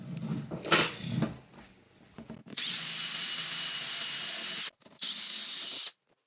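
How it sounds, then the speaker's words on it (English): A shrill power drill drilling a pilot hole with a regular pointed bit whines in two steady bursts after some faint clinking and handling noise, stopping briefly between runs. "drilling a pilot hole first with, just a regular drill bit with a very pointy end"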